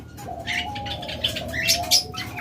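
A pair of albino red-eyed pigeons shuffles and flaps its wings close by, with a few short fluttering bursts and soft chirps over a steady background hum.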